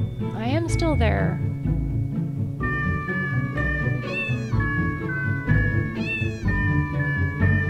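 Cartoonish cat meows from the cute cat platformer game The Purring Quest, several rising and falling mews in a row over steady game music.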